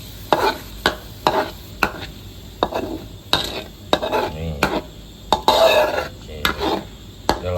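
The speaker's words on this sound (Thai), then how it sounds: "ผัดพอให้ร้อนแล้วก็เติมน้ำเปล่าสักนิดหนึ่งครับ" Pork stir-fried with curry paste in a pan, heard as a quick series of sharp spatula scrapes and clacks against the metal over a soft sizzle, close up and irregular in rhythm.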